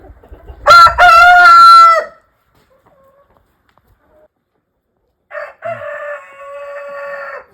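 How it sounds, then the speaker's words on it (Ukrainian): A Jersey Giant rooster crows loudly and close by, then after a quiet pause a second, slightly fainter crow rings out with a long drawn-out ending. "А це от півні, це півні"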